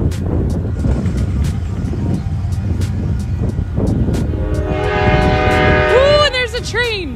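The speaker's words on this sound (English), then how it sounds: "Ooh, and there's a train." Train rolling through Peekskill, New York, its loud horn sounding in several blasts near the end over steady rumbling, with clanking and busy outdoor noise throughout.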